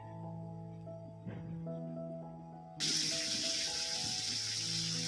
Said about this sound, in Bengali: এখানে আমি মুগ ডালটাকে একটু ভেজে নিচ্ছি